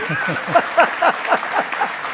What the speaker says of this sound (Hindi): रिसर्च के लिए जोरदार तालियां जी